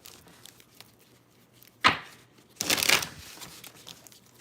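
Tarot cards being shuffled during a live reading: a sharp riffle near the middle, then a longer, louder burst of shuffling that trails into softer card handling, close and without talk.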